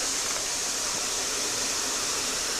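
Rushing water from the underground Lost River at Natural Bridge, Virginia, echoes out of a dark cave as an even, unbroken broadband roar with no talk over it.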